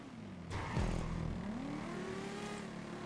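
A racing car's engine in GTA 5 revs hard, its pitch rising and dipping as it accelerates, with a sudden low thump partway through. The engine drone stays loud and continuous, and no one speaks.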